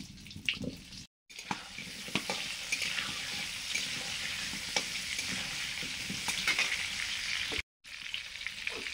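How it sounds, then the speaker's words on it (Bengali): Cauliflower and potatoes frying for khichuri, with a steady sizzle, stirring scrapes and a run of water throughout, close and fairly quiet, broken by two short silent gaps. "খিচুড়িতে শুধু ফুলকপি আলু দিচ্ছি, ওগুলো একটু ভেজে নেব।"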